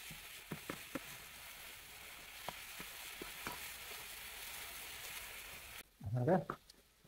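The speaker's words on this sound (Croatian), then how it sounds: "pire se lijepo upržio, počinje na dijelovima tave ovako malo da se lijepi pri dnu" Tomato puree with browned vegetables fries in a pan, giving a faint, even sizzle broken by a few soft utensil clicks. A voice briefly speaks near the end.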